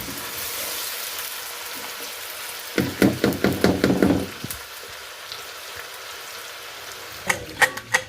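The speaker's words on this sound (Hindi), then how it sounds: "इसका कलर चेंज होने तक इसे अच्छी तरह फ्राई कर लेंगे।" Chicken with ginger and garlic sizzles in a pan, a soft steady hiss broken by a burst of louder crackling pops midway and a few sharper spits near the end.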